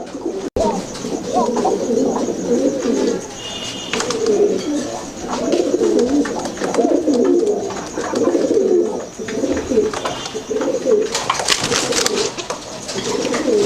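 Pigeons coo continuously up close in a loft housing a breeding pair, with soft repeated throaty phrases, occasional wing flutters and a brief sharp knock near the start.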